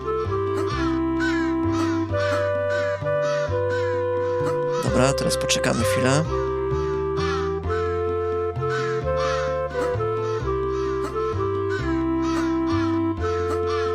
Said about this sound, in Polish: Zapomniałem o tej wronie.